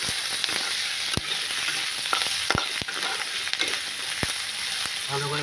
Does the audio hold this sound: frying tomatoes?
yes